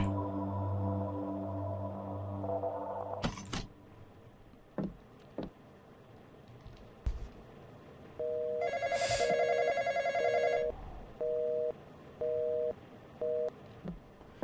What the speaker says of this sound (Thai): เสียงโทรศัพท์มันชอบมาพร้อมมันเดิน